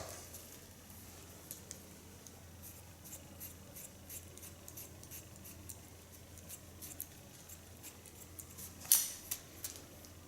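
Scissors slice-cut a woman's hair into a bob, giving a soft, repeated snipping and sliding close by, quiet overall with one sharper snip near the end.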